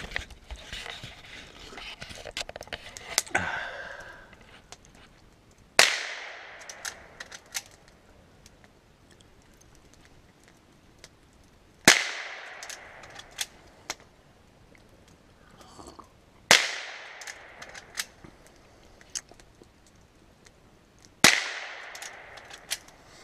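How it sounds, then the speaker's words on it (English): A Henry rifle fires at outdoor target practice, five sharp, loud reports spaced several seconds apart, each ringing briefly, with lighter clicks and handling sounds between shots and no talking. "watch my daughter shoot the Henry rifle"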